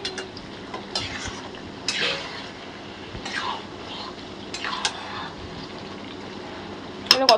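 Spiced meat (mutton or chicken) marinated in yogurt being fried and stirred with masala in a pan before pressure cooking, low sizzling with intermittent scraping and clinking of a spoon against the pot, close and fairly quiet.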